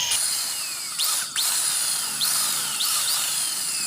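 Power drill with a 10.5 bit boring into a broken bolt in a car transmission box, a high, steady whine with a few sharp pitch sweeps as the drill speeds up and bites, close by with no talk.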